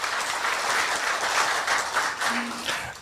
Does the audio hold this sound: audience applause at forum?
yes